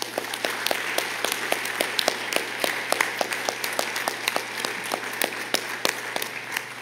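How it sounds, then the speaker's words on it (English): A church congregation gives a round of applause for graduates at a contemporary worship service, steady clapping with sharp individual claps standing out over a low hum. "Let's give them a round of applause."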